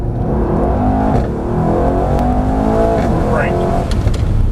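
Mercedes-AMG E63 engine on a race track at Mercedes-Benz World, a loud close roar rising and falling in pitch through gears, with people talking over it inside the car.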